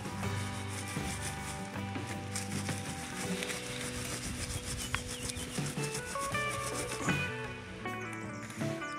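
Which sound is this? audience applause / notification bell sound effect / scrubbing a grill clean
scrubbing a grill clean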